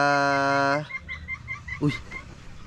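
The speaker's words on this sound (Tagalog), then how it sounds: "may manok" Chickens cluck in a few short, uneven calls just after a sustained tonal sound cuts off.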